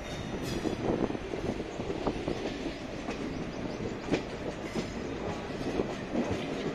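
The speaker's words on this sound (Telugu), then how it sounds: "ఇప్పుడు మనం విజయవాడ రైల్వే స్టేషన్లో దిగుతున్నాం" A train arriving at Vijayawada Junction railway station, a continuous loud rumble with rhythmic clickety-clack of wheels over rail joints, heard close up.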